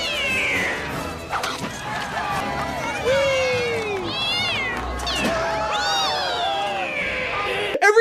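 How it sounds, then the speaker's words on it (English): In a scene from the movie Mr. Deeds, cats yowl and meow in rising, sliding cries over a busy background of voices and thumps. The meows come several times, fairly close. "Every time he throws one of the cats out of the window, it's like, meow!"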